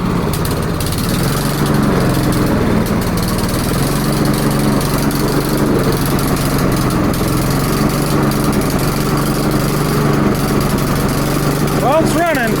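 A small lawn mower engine runs roughly and barely keeps going, a loud, close, uneven drone throughout, with a voice talking faintly underneath.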